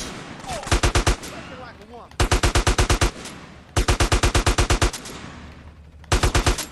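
Bursts of automatic gunfire from GTA San Andreas Definitive Edition during a gang riot, four loud rapid-fire volleys separated by short pauses over a background of game noise.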